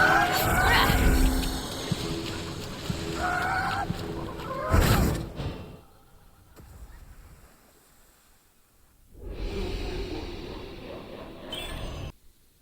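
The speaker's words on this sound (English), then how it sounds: "Helios' annoying bird that screeches every time the sun comes up?" Electrion, a rooster in the video game Immortals Fenyx Rising, lets out harsh screeching crows in a few loud bursts separated by quieter gaps, with faint game ambience and some voice-like sound mixed in.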